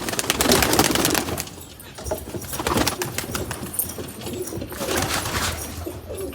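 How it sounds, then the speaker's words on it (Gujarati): Pigeons coo steadily just after leaving their nest box, where a pair has young. The calls are close and fairly loud, with layered overlapping coos and a brief soft flutter of wings. "પેટીમાંથી કબૂતર બહાર નીકળ્યા છે"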